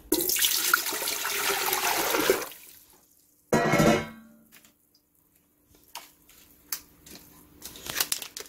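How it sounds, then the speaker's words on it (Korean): Water pours into a pot to start a broth for a pork kimchi braise, a loud steady gush for about two seconds, then a brief second splash and scattered small clinks in a quiet kitchen. "물을 붓고,"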